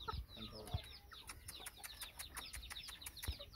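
Aseel rooster and hens clucking repeatedly at close range, short broken calls overlapping in an uneven rhythm over faint background chirps, with no talking.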